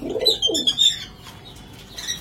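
Domestic pigeons kept in a home coop coo in a few low throaty bursts in the first second, with fainter chirps trailing off, close and moderately loud with no talking.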